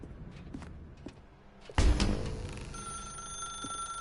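Telephone ringing in the video game The Stanley Parable: after a few soft footsteps, a sudden loud thump is followed by a steady electronic bell tone that rings on continuously, close and alone.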